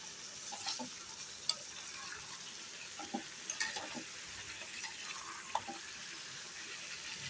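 Assamese chicken curry fries in a pan with potatoes and tomato just added, soft sizzling under scattered scraping clinks of stirring and a few sharper taps.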